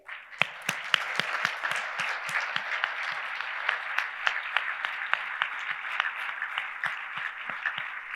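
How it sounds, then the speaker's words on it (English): A crowd applauds honorees at a Silver Circle journalism awards event in Wisconsin, a steady wash of many hands clapping with sharper individual claps standing out, sustained throughout. "Please join me in another round of applause for our honorees today."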